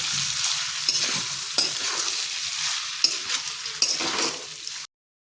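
Sabudana khichdi with potatoes is stirred in a frying pan, giving a steady close sizzle with four sharp spoon scrapes against the pan before the sound cuts to silence near the end.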